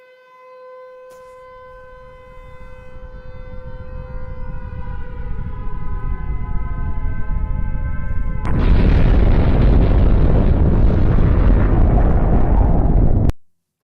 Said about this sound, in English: That's the sound of a nuclear bomb falling.